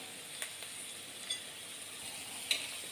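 Green garlic hits a pan of sautéing onion and chili and gives a steady, moderate sizzle with a few faint clicks of stirring. No voices.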